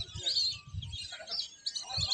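Birds chirp and tweet at the Varadaho wetland in Badarganj, a few thin high calls scattered over low background rumble, fairly faint and moderately distant.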